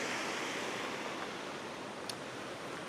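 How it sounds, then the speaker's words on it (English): A wide creek flowing along a trail on a sunny day, a steady broadband rush of moving water heard close and continuous with no pauses and no talking over it. "That's a wide creek as well."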